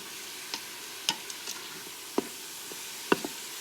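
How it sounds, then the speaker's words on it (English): A spoon scrapes and taps in a pot of taco pasta cooking in an Instant Pot, giving scattered soft knocks over a faint, steady hiss. "mix that up with it while it's cooking"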